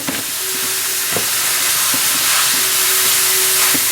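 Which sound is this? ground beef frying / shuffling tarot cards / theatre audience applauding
ground beef frying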